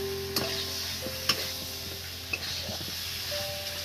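Echor prawn curry sautés in a pan with a soft, steady sizzle, broken by a few sharp clinks and scrapes of a spoon stirring against the metal.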